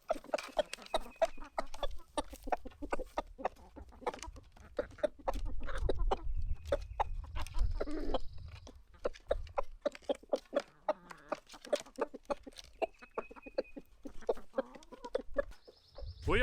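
Backyard chickens and a rooster cluck steadily on a small farm while being fed collard greens, with irregular clucks and scratchy pecking close by through the whole stretch and no talking.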